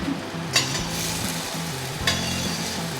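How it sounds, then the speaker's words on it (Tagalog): Ginger sautéing in hot oil in a pan while cooking squash and pechay in coconut milk, a steady sizzle with two brief stirring clatters, alongside music playing in the background. "Yan na guys, naglagay na ako ng luya."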